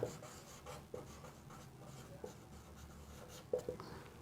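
A pen scratches and rubs across paper while an accounts book format is drawn up by hand, with soft close strokes and occasional taps at a low level.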